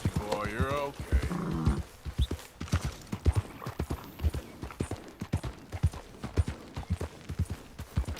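Horse hooves clip-clopping steadily as a rider travels in Red Dead Redemption 2, a regular near rhythm with a brief whinny and a voice talking at the start.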